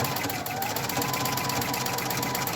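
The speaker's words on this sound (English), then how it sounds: "I drop my foot, start sewing again." A sewing machine stitches fabric in a fast, steady rhythmic chatter of the needle, close and continuous for a few seconds.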